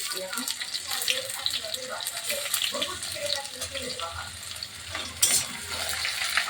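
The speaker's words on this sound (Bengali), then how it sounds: "পেঁয়াজটা আমি লাল করে ভেজে নেব।" Onion frying in hot oil for a mutton curry sizzles steadily and close by, with faint stirring sounds and a short clatter near the end.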